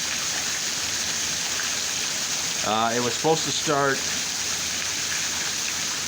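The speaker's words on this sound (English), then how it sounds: "the rain's supposed to be sticking around for a few days" Steady rain falls in a dense, hissing wash that keeps going throughout, with someone briefly speaking over it partway through.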